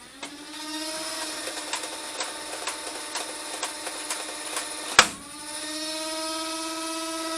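An Adventure Force CommandFire dart blaster's motor spins up with a high whirring whine and rapid ticking as it cycles darts, a sharp snap midway before the motor winds on again, close and loud, no talking.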